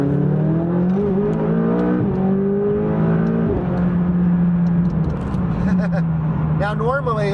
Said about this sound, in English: We're gonna pull on the highway and do a little acceleration here because I have some heat in the tires.